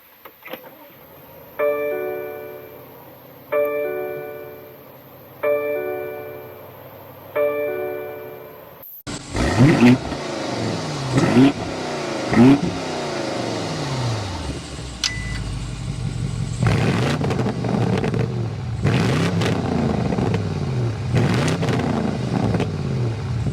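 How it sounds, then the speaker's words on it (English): A 2024 BMW M850i Convertible, twin-turbo V8, after a series of repeated electronic chimes: the engine fires up with a loud bark, then several sharp exhaust revs rise and fall before settling into a rumbling idle up close. "start it up so you can hear that exhaust note"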